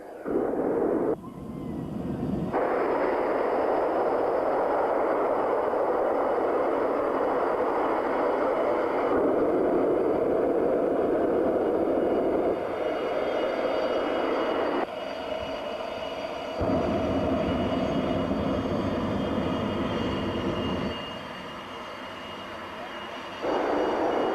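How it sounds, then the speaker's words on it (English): A jet-powered truck roars continuously as it drives in reverse around a speedway turn, a loud, steady turbine blast with shifting intensity lasting throughout, heard from trackside. "A jet-powered vehicle actually driving under its own power in reverse direction."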